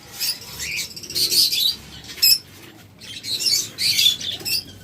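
Roller pigeons nearby, giving soft coos mixed with repeated bursts of wing flapping and fluttering that come in uneven clusters, with no talk over them.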